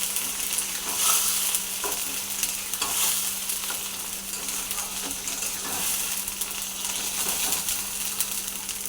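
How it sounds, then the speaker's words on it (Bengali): Kharkol leaf paste being stirred into fried onion in a pan, with a steady broadband sizzle and repeated scraping strokes of the spoon running throughout at moderate loudness, no voices. "খারকোল পাতাটা একটু নাড়াচাড়া করব।"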